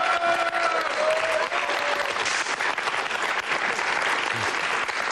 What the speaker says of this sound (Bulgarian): Силни аплодисменти! Силни!